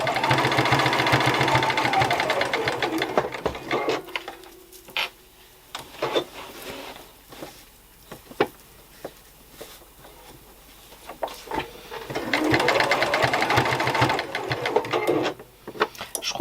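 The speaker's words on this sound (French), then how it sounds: "Là, je fais mes poches. Je pique mes poches" A domestic sewing machine stitching back pockets on velvet trousers, a steady rapid mechanical whirr in two loud runs with a quieter pause of clicks and handling between them.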